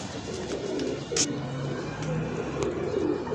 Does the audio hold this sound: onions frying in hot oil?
no